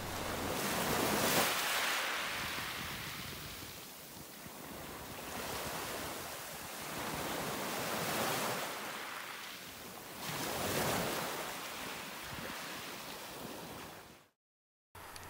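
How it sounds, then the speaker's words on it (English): Sea waves wash onto a shore at night in slow, rolling surges that rise and fade every few seconds, mixed with breezy wind noise and no voices. "sit back, watch the stars, and listen to the sea"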